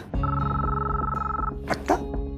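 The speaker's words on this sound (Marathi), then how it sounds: "वेदांचाच फोन." A telephone rings with a sustained electronic tone held for over a second, followed by brief clicks and handling noises close by.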